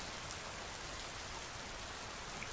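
Steady rain falls on a surface in an even, continuous hiss of dense drops, soft and close with no voices.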